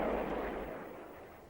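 Soviet military aircraft delivering bombs and rockets, a deep booming blast that fades into a long rumbling decay, distant and heavy.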